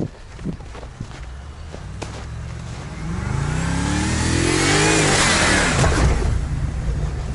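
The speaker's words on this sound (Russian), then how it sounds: "как у него все-таки V8 работает" A V8 car engine, recorded while BMW xDrive, Audi Quattro and Volkswagen Torsen all-wheel-drive systems are tested, idles with a few faint knocks and then revs up hard into a loud, sustained, rising roar close by.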